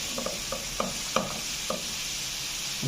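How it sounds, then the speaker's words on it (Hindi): Crushed garlic sizzles faintly in hot oil in a pan, a soft steady frying hiss with a few light stirring clicks. "लहसुन को थोड़ा सा हम रोस्ट करेंगे"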